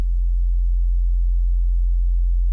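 A pure sine wave in Ableton run through an OTT multiband compressor holds a steady, loud low hum with only faint overtones, unchanging from start to finish.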